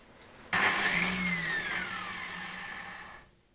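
A table saw used for cutting steel angle iron is switched on. Its motor starts abruptly and spins up with a loud whine that falls in pitch, then runs steadily before cutting off.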